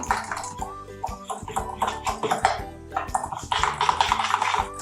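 Fish and chips batter being stirred in a bowl, with a steady run of close, light clattering and wet knocking strokes at an uneven pace.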